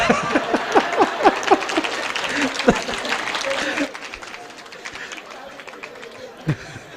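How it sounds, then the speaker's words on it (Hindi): A crowd at a Hindu Ram Katha religious discourse claps in several loud, sharp bursts that build into sustained clapping, then stops abruptly, leaving murmuring and scattered faint claps. "राम जी के लिए सब ताली बजा दिए।"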